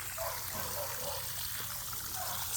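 Water from a garden hose trickles steadily onto a Meyer lemon plant, a soft, low, continuous stream with no other sounds around it.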